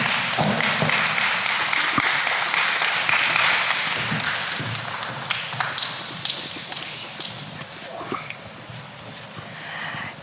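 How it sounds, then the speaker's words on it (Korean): An audience keeps clapping while a guest walks up onstage at a student art competition in Jeju, a steady crowd patter that slowly fades, with some voices and music mixed in. "무대에 오르는 동안 계속해서 박수를 부탁드리겠습니다"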